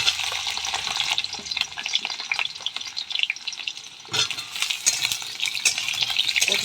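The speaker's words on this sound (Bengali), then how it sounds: "পটলগুলো দিয়ে লাল লাল করে ভেজে নেব।" Pointed gourd (potol) pieces fry in a pan with a steady close sizzle, broken by scraping stir strokes and a brief clatter midway, no talking.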